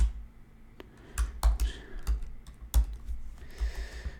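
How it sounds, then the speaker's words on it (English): Keys on a computer keyboard are tapped in an irregular run of close, crisp clicks, with brief pauses between bursts and no voices. "I'm just going to type in some text."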